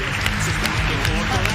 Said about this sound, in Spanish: aplausos, ahí está